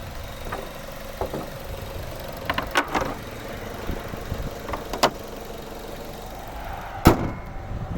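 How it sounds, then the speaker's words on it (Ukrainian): A 2009 Mazda 6 Sport with a 2.0 petrol engine and automatic gearbox idles with a low, smooth, even hum. A few sharp knocks and clicks break in, the loudest near the end. "Дуже-дуже класна робота двигуна. Тихо, рівно, не троїть"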